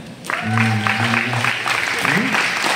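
An audience at a school open day applauds a history professor as he is introduced, continuous moderate clapping from a gathered crowd running beneath a voice speaking over it.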